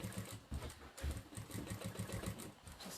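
A Jack A6F sewing machine runs free-motion quilting, laying long basting stitches down the side of a quilt in a fast, steady, rhythmic chatter of needle strokes, close and continuous throughout.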